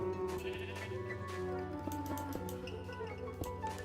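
Blocky Minecraft sheep bleat repeatedly in a game world, several overlapping wavering calls close by over steady background game music.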